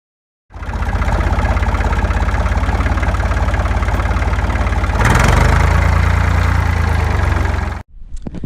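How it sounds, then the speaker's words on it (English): A farm tractor engine runs steadily and loud at close range with a deep, rhythmic diesel throb, swelling somewhat louder partway through before cutting off near the end. "You can see it, the whole tractor in action."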